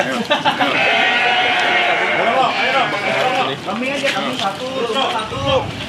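Several Garut sheep bleat loudly and repeatedly, close by, with people talking over the noisy pen at a sacrificial livestock market throughout.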